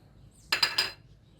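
Flan ingredients, including starch, being tipped from containers into a bowl, with three quick, bright clinks of utensils or containers against the bowl in a close, quiet kitchen.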